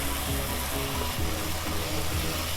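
Chicken pepper curry sizzles loudly in a pan as chili powder is gently stirred in, a dense continuous frying hiss with rhythmic stirring scrapes close up and no talking.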